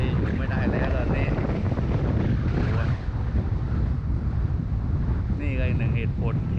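Strong wind buffets the microphone at the seashore, with rough waves rolling in beneath, loud and continuous, while someone talks over it at times.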